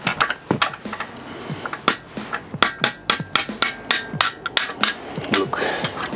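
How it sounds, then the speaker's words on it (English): Repeated hammer strikes while fitting the wheel on a Honda NSR125 two-stroke motorcycle, sharp metallic knocks at an irregular, quickening pace, close and loud with no talking. "I don't know why, but we need a hammer for it."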